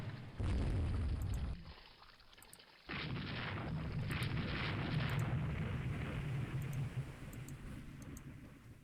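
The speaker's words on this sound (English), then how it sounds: "Requiem is hit by a torpedo." A torpedo strikes a warship in the naval strategy game Rule the Waves 2, a loud rumbling explosion that drops away briefly and then swells into a sustained roar of blast and fire noise with scattered ticks.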